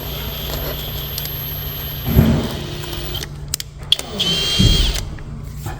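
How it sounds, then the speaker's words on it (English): A drill bores a hole into wood flooring at a bevelled seam, two short bursts of close, loud whirring and grinding against a steady room hum, with a faint whine between them. "We always want to drill a hole the size of the end of the tube"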